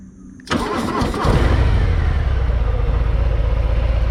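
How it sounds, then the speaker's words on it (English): A starter whirs briefly, then a Harley-Davidson FXDR 114 motorcycle engine catches and settles into a steady, close idle. "This is to start the engine."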